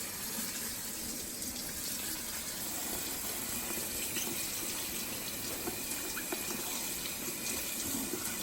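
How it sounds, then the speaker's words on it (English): A kitchen tap runs over tomatoes being rinsed, a continuous close splashing gush of water with small irregular spatters, steady throughout and free of talk. "I'm going to rinse these tomatoes off."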